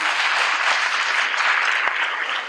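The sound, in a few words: audience applause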